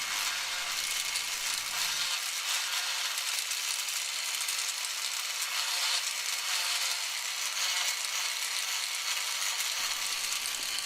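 A rotary tool fitted with a silicone point polishes copper jewellery, making a continuous, close, high-pitched hiss that holds steady throughout.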